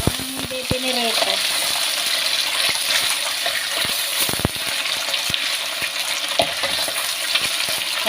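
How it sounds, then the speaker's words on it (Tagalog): Tofu fries in oil with a steady close hiss and crackle, punctuated by sharp metallic clinks and taps of a utensil against the pan, while a voice speaks briefly near the start. "Iprito ako ng tofu."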